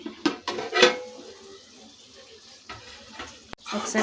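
Tomato and brinjal pieces frying in oil in a pan, a soft sizzle broken by several sharp stirring scrapes and clatters of the utensil against the pan, close and intermittent.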